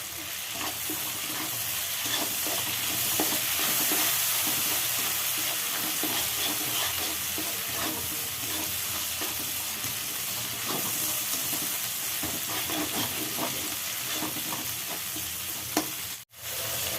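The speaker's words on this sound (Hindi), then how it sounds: "इसको अच्छी तरह फ्राई होने देंगे मसाले को" Spice masala for samosa filling frying in a pan, a continuous dense sizzle with frequent stirring scrapes, steady and close throughout.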